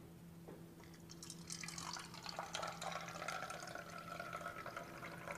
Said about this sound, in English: As we pour this out